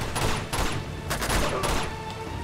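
Gunfire crackles in the Uncharted 2 video game, a rapid fusillade of sharp bursts in quick succession, moderately loud over a steady background.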